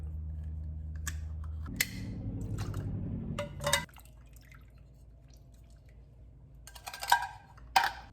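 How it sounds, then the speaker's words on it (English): Canned pineapple tidbits being drained, beginning with a low pouring trickle of liquid, followed by quiet drips and soft squishy handling, then a few sharper clinks and splashes at the close, with no talk. "We'll start by draining the fruit."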